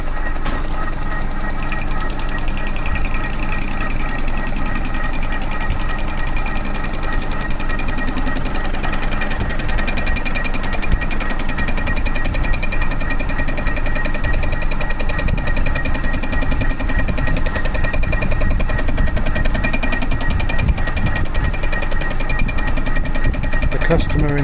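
A machine skims a Vauxhall Corsa cylinder head, producing a steady, loud mechanical whir with a fast rhythmic chatter of the cutter, continuous for the whole stretch, with a voice talking over it.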